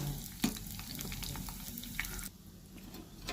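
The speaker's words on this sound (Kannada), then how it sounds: "ಈ ಕಲರ್ ಚೇಂಜ್ ಆಗೋವರೆಗೂ ನೀವು ಬೇವಿನ ಸೊಪ್ಪನ್ನ ಫ್ರೈ ಮಾಡ್ಕೋಬೇಕು" Neem leaves fry in coconut oil with a quiet, steady crackle and a few soft pops, and the bubbling drops away to near silence partway through.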